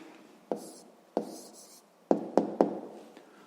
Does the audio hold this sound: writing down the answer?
yes